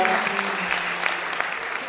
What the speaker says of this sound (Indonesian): katakan tepuk tangan buat ibadah hari ini